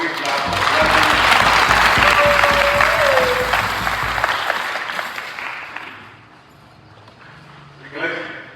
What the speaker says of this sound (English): Can we clap for clergy?